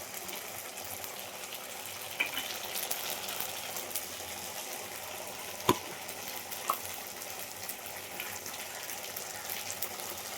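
Spices sizzle and fry in hot oil mixed with ghee, a steady close crackle with a few sharp clinks of a utensil against the pan and no talking.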